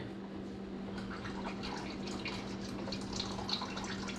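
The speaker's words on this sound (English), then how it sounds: "There's a lot of oil in there, so make sure you got the drain pan underneath it." Motor oil draining from a Cadillac SRX into a drain pan during an oil change makes a steady, close trickling patter over a faint constant hum.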